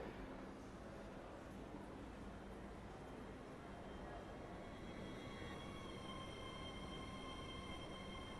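An Avanti West Coast Class 805 Hitachi train in a train simulator game hums with a steady low drone of traction and rolling noise, faint high whining tones emerging toward the end.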